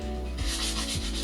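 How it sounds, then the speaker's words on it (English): Fine sanding pad scrubbing across chalk-painted wood in close, steady back-and-forth strokes, a soft continuous rasp with two brief dips as the stroke turns. "I'm using the fine sanding pad"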